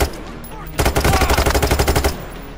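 Rapid automatic gunfire rattles in a long, dense burst during a Payday 3 heist shootout, loud and close, with faint game ambience before and after.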